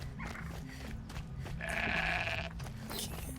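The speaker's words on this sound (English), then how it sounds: "The goats make the best noises." In the video game Horizon Zero Dawn, a goat lets out one drawn-out bleat at moderate volume over low, steady background music.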